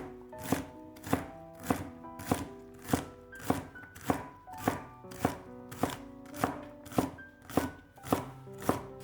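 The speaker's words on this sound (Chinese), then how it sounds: "再改刀切成小丁" A knife dices food on a cutting board in crisp, evenly spaced chops, about one and a half per second, each a sharp wooden knock with a short ring, close and clear with no talk.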